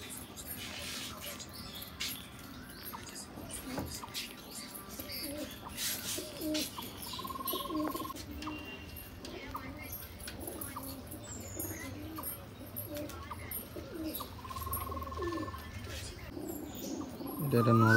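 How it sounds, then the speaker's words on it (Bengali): Pigeons at a market stall coo in low, repeated murmurs amid shuffling and clatter, with background voices talking and a few brief tonal beeps. "এটা মাদি পায়রা"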